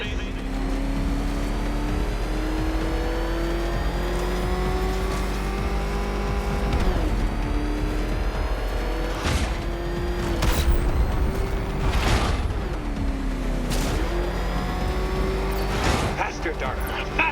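The Batmobile's engine in the video game Batman Arkham Knight drones and revs steadily with rising and falling pitch, broken by several sharp impact bursts and skids, while game voices talk over it.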